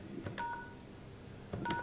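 Telephone keypad dialing tones from a desktop mobile phone calling giffgaff voicemail: two short, clear dual-tone beeps about a second apart, close and distinct over a quiet background.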